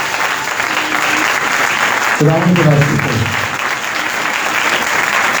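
Loud congregational applause at a Christian worship gathering praising Jesus, a dense steady clapping that swells throughout while a voice speaks over it.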